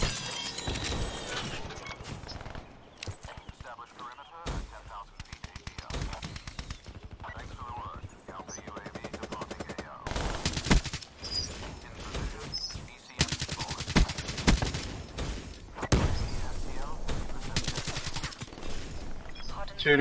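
Gunfire from Black Ops 3 on PS4 Pro: repeated bursts of automatic rifle fire and single shots, loud and close, in uneven clusters throughout with brief pauses and other game effects.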